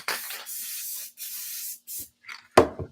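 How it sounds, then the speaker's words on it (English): An aerosol spray can is used during a summer craft project, giving four or five sharp hissing bursts of about half a second each, close and fairly loud, separated by short silences and followed by a brief clatter. "this time I'll spray"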